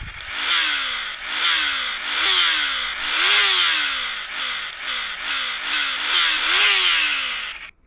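Game motorcycle engine modeled on a Yamaha MT-03 in Moto Acelerador 3, idling then blipped through a series of short rising revs that fall back, buzzy and close, with no talk.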